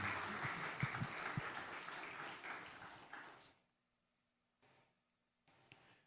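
A church congregation applauds as the pastor is welcomed to the pulpit, clapping strong at first and tapering off after about three and a half seconds, followed by near silence with a couple of faint stray sounds.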